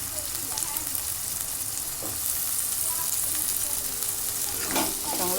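Large chunks of potato sizzle and fry steadily in a pan for a potato-spinach dish, a continuous crackling hiss with occasional stirring scrapes, close and alone without talk.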